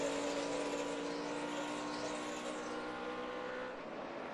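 NASCAR stock cars roar past during the 2010 Coca-Cola 600 at Charlotte, a steady loud engine drone with rising and falling passes swelling and fading across the track.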